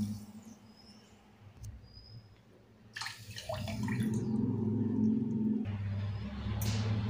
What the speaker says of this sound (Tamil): கூடவே பார்த்தா 2 கப்பு நம்ம தண்ணி சேர்த்துக்கலாம்.